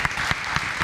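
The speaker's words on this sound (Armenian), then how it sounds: "Ավելի բարձր եկեք ծափահարենք Վարշամին եւ Ստեփանին" A studio audience applauds the two guests of a talk show in a short, even burst of clapping with a few sharper hand strikes standing out.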